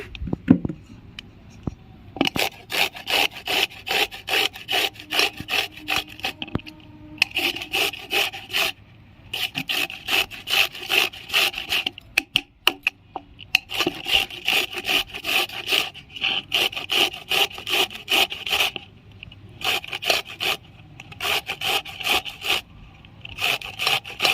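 Carrots being grated by hand for Bengali carrot halwa give off a steady, rapid rasping, stroke after stroke, close and loud, broken by a few short pauses.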